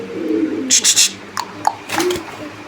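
Pigeons at a farm cooing softly in short low bursts close by, mixed with a few sharper bird calls and brief noises.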